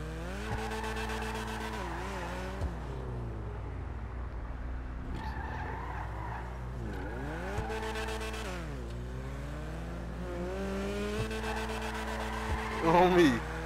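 A racing car drifts in Grand Theft Auto V in wet conditions, with repeated rising and falling tire squeals over a constant engine hum. A loud burst of squealing comes near the end.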